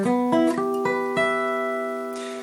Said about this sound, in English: The arpeggio sounds like this.